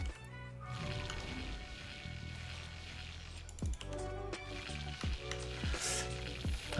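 Food sizzling on a cooking station in the video game Eternal Return: Black Survival, a steady frying hiss running throughout alongside game effects and a few sharp interface-like blips near the end.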